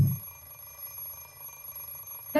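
An alarm clock in the visual novel game Fate/Stay Night gives a short electronic ring, brief tonal beeps opening and closing the moment around a quiet steady hum, loud and close.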